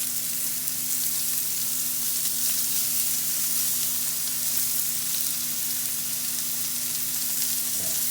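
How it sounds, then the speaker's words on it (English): A garlic and onion burger sizzles loudly and steadily in a hot pan while it is basted, giving a constant close crackling hiss with faint stirring and no talk. "I'm going to flip it one more time just so that I can baste the other side of the burger"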